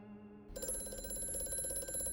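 A telephone rings in Amnesia: A Machine for Pigs, a bright, steady electronic-sounding bell starting abruptly after a half-second of quiet low drone and holding continuously, fairly close and alone with no voices.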